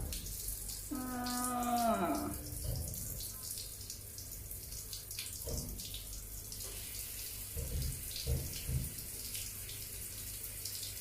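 Water pours and splashes over a pet during a home bath, coming in irregular bursts and trickles close by, with a short tonal cry-like sound early on and faint background noise between the splashes.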